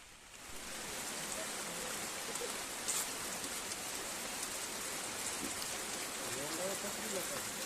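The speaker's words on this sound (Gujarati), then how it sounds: "વરસાદ ચાલુ છે અત્યારે" Steady rain pours down in a continuous hiss, with scattered drops pattering on surfaces and faint distant sounds underneath.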